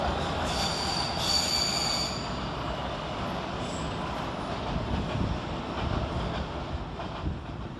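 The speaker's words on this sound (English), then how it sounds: "Next in arriving to terminate with a Heathrow Express service off Heathrow Terminal 5 is 387133 and 387140." A Heathrow Express electric train pulls into London Paddington station, its wheels squealing loudly and steadily on the rails, with rumbling carriage noise throughout and no voices.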